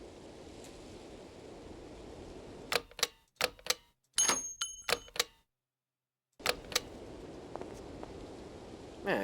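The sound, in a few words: bullet casings dropping in the video game Syberia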